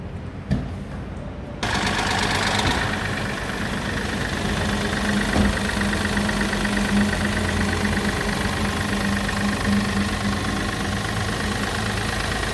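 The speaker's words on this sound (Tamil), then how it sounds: "உங்களுக்கு பேனட் ஓப்பன் பண்ணி என்ஜினை ஸ்டார்ட் பண்ணி காமிக்கிறேன்" A 2021 diesel seven-seater car engine cranks and starts with the bonnet open, then settles into a steady, close rumbling idle with a faint knocking rhythm.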